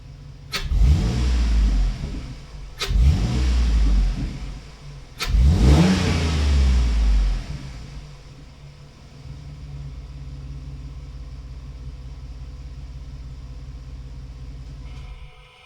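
A Jeep Liberty fitted with an Airaid throttle body spacer revs hard three times in close succession, each surge rising then falling, before settling into a steady engine drone while driving, heard from inside the vehicle.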